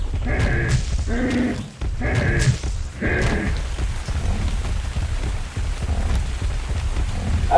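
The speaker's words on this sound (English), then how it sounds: "Oh no, it's raining." Rain falling in the survival video game ARK: Survival Evolved, a steady patter on surfaces continuing throughout, with a few short tonal animal-like calls early on and no speech.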